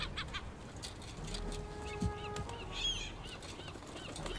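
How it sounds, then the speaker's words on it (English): Goose-like honking and clucking birds in the video game Concrete Genie, a few short calls over background game sound with no talk. "Look at these dumb birds."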